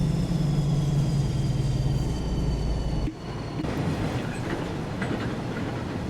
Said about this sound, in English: I love the rattle and clunk sounds the GPS box vans make.